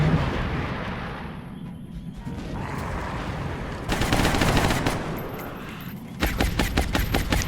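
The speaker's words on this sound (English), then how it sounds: "Oh my god, those guns are so loud" Loud, close automatic gunfire rattles in the turn-based strategy game XCOM Long War, first as a sustained roar with bursts, then a rapid string of sharp, evenly spaced shots near the end.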